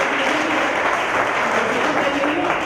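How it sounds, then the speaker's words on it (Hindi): Audience applause at an anniversary celebration of a theatre group, a steady, dense wash of clapping filling the whole stretch. "तालियां तो बजा दो भाई।"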